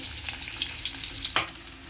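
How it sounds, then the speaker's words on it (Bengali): Eggs frying in hot oil in a pan, a continuous close crackling sizzle with small sputtering pops and a brief louder scrape partway through, no voices. "ভালো করে ভেজে নেব"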